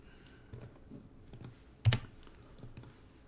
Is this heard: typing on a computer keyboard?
yes